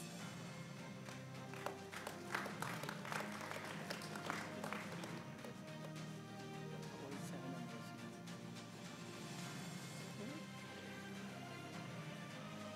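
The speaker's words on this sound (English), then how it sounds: "A round of applause." Applause from an audience at a UAE–India business fest session in Abu Dhabi, a steady wash of clapping that carries through the whole stretch at a moderate level, busier early on, with faint crowd murmur beneath.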